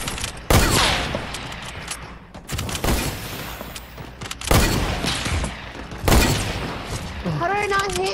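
Loud gunshots in Fortnite Creative mode ring out roughly every one to two seconds, four or five booming reports over steady game noise, with people talking throughout.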